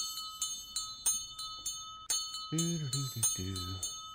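A bell in the video game The Quinfall rings repeatedly in a steady rapid rhythm of bright metallic strikes, while someone talks over the second half.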